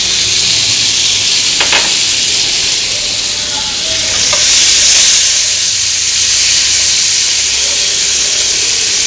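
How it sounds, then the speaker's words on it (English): Onions frying in oil and butter for a chicken tikka masala gravy give a loud, continuous hissing sizzle close by, broken by a couple of light utensil taps. "We have to fry the onions till it is golden brown."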